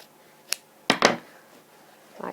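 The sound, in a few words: scissors trimming trouser fly extension fabric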